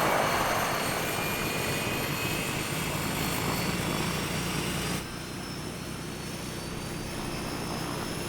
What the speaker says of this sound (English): here we have just kind of overall ambience in the engines here